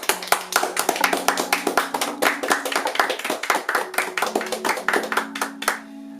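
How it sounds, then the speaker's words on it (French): A small group claps close by in steady, fairly loud applause for an actor on a film set, the sharp individual hand claps distinct and tapering off near the end with a faint lingering tone. "j'aimerais un tonnerre d'applaudissements pour Loris Sebag s'il vous plaît"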